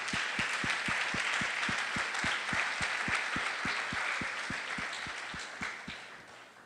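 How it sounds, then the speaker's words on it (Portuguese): A church congregation claps in a strong, steady rhythm, regular sharp claps over a dense wash of crowd applause that stays full and then gradually eases toward the end. "Dá um aplauso forte ao Senhor"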